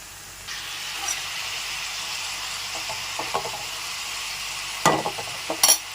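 Tomatoes frying in a curry pan give a steady sizzle and hiss throughout, close and moderately loud, with a few brief clinks and stirring scrapes near the end.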